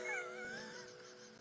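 A cat character meowing in the video game Kitty Love, one long drawn-out wavering meow, close and clear, with a faint background hum.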